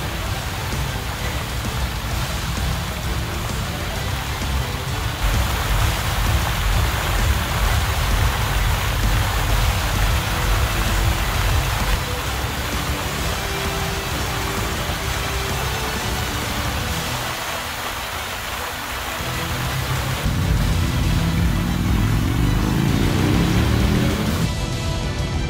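Rain falling steadily during a motorcycle tour from Fauske, Norway to Umeå, Sweden, a dense continuous hiss over about twenty-five seconds with a low engine rumble beneath, no voices.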